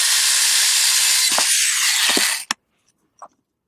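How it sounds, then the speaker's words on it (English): A power drill bores a hole through a base plate clamped as a template, whining steadily and loudly for about two and a half seconds before stopping, followed by a few short clicks and knocks. "clamp the base plate and use that as a template to drill the second hole"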